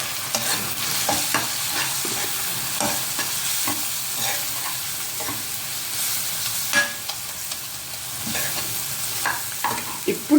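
Garlic paste with coriander powder and chili powder fries in a pan while a spoon stirs it, giving a steady close sizzle with frequent scraping clicks and taps over about ten seconds.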